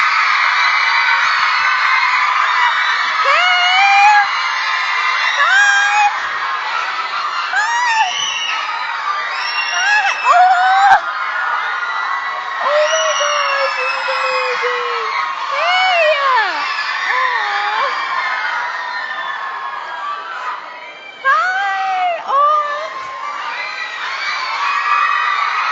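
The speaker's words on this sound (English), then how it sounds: "Just get your scream out." A large crowd of fans at a social media convention screaming, a dense, loud, continuous shrieking wall with rising and falling high-pitched squeals and whoops over roughly half a minute.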